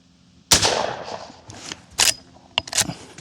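Rifle shots from a Miroku Winchester 1892 lever-action firing 45 Colt +P: three or four loud, sharp reports spaced about half a second to a second apart, each with a brief ringing tail, no talk.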